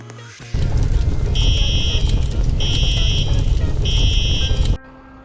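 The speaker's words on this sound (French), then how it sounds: "Il faut déclencher l'alarme." An alarm sounds inside a Brookhaven game on Roblox, going off in a lab-virus outbreak story: a loud electronic buzzing alarm with repeated high beeping bursts over a heavy drone, starting suddenly and then cutting off.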